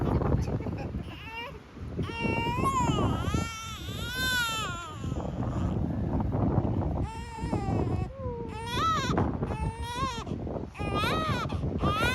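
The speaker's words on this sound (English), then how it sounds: "She's just grizzling because it's windy." A newborn baby grizzles and cries in fretful bursts close by, with gusty wind buffeting the microphone.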